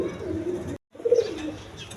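Cooing from a pair of high-flying Giribaz pigeons, soft low throaty coos repeating close by in two bursts split by a short silence.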